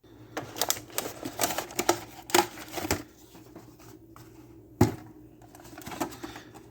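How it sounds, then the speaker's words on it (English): Plastic packaging crinkles and clicks as Star Wars Black Series action figures are pulled free, a quick run of close taps and rustles with a sharper snap near the end. "So I'll go ahead and take them out of the plastic"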